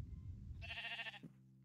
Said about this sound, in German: Dann macht das Schaf noch mäh zum Abschied.